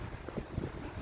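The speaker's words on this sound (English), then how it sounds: "It's a little windy out here" Wind blowing outdoors at a park on a rainy day, gusty buffeting rumble against the microphone, loud and close, with no talk, over about a second.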